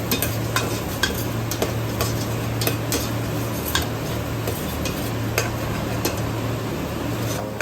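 A spoon stirs lugaw rice porridge in a pot, with repeated close scraping clicks and knocks over a bubbling bed and a constant low hum, with no talk.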